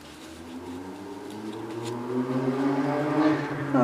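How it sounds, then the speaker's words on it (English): A motorbike passes outside an open window, its engine note rising steadily and growing louder as it approaches over a few seconds. "Motorbike going past,"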